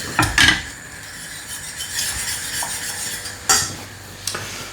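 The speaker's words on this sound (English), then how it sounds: "So whisk it in, put it back on the heat" A pot of mixture being whisked back on the heat for homemade alcohol, brisk metal-on-pot scraping and clinks with a couple of sharper knocks, close and alone.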